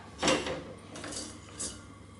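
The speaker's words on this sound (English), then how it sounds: "So keep stirring this while the butter is melting" A spoon scrapes and clinks around a pan of 100 grams of melting butter and light brown sugar, a few soft, close metallic strokes at an easy, uneven pace.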